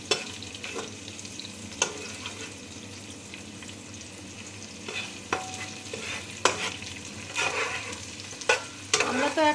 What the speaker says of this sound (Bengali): পেঁয়াজ কুচিটা ভেজে নিচ্ছি।